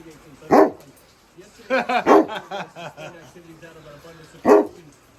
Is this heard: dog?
yes